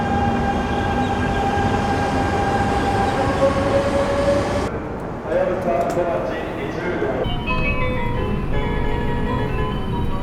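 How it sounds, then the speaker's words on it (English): A Shinkansen maintenance and diagnostics train on the Tohoku Shinkansen line in Japan rumbles past close by with a sustained roar and metallic tones, shifting in pitch as it goes; faint voices mix in. "this is the equivalent of a Dr. Yellow train on the Tohoku Shinkansen"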